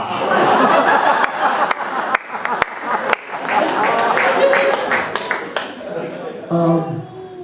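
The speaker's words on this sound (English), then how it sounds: "you gotta give him a big round of applause" A crowd at an event applauds a man who has just turned 104. The clapping is loud and steady throughout, mixed with chuckles and laughter, and voices rise near the end.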